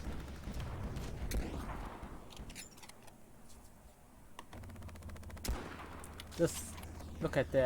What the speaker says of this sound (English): the sniper rifle can shoot through walls